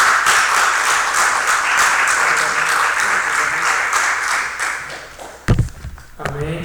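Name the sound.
church congregation applauding the pastor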